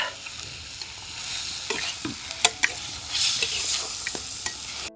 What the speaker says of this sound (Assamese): এতিয়া এইটো এনেকৈ সেনাই ল'ম মানে ধুনীয়াকৈ পুৰা ড্ৰাই ফ্ৰাই কৰি আছোঁ